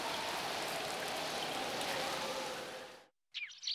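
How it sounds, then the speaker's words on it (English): Steady rain pours down in a broad wash of close, dense patter for about three seconds, then cuts to brief silence before a few faint sounds return. "I've been driven out in the rain"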